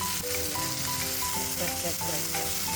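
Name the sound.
pork meat sizzling while stir frying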